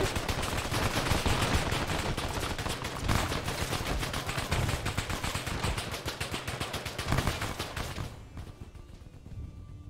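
Sustained artillery and gunfire in the military video game Arma, a dense, loud barrage of rapid overlapping shots and blasts that carries on for about eight seconds before dropping away to a quieter tail.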